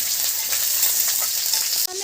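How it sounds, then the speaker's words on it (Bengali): Chilies, bay leaves, chopped onion and crushed garlic fry in hot oil, a loud close steady sizzle with occasional stirring, and the sizzle briefly drops at the end. "আমি ব্রাউন কালার করে ভেজে নেব।"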